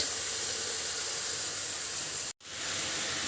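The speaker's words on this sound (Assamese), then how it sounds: "আৰু মই মাংস ভাজি আছোঁ" Marinated chicken frying in ghee or oil in a pan gives a steady, close, hissing sizzle that runs continuously, cut off by a brief gap near the end and then resuming.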